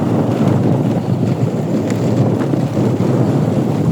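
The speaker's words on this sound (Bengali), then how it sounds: "খুবই বাতাস।" Strong wind buffeting the microphone of a vehicle moving along a rough brick road through countryside, a steady loud rushing roar that fills the whole stretch without pause.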